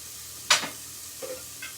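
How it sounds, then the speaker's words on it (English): Half a red onion drops into a hot pan with one sharp burst of sizzling hiss that quickly settles into a softer crackle, close and alone. "So I'm going in a pan, half a red onion."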